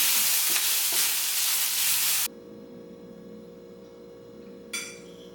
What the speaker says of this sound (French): je suis en train de cuisiner les trucs ensemble avec de l'huile d'olive et